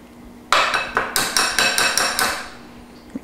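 Metal box grater being knocked against a hard surface to free lemon zest, giving roughly eight sharp, ringing metallic taps in a quick, fairly even rhythm, close and loud, with no talking.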